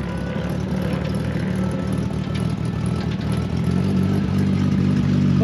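A race car giving a passenger taxi ride roars steadily and loudly from on board, its engine holding a constant, slightly rising drone with mechanical clatter throughout.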